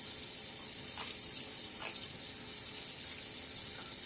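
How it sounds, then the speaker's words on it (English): Steady running water over tomatillos being rinsed at a sink, a continuous hiss with faint splashes and a few brief knocks, no talking. "You're gonna rinse the outside because they have a slimy exterior."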